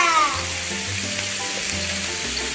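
Meat sizzling in a pan at home, a bright continuous crackling hiss heard up close, with a faint low hum underneath and no talk.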